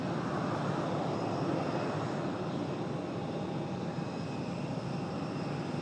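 An American Airlines Airbus A321 jet at Raleigh-Durham airport, a steady broad engine roar held at constant loudness throughout, heard from a distance with no voices.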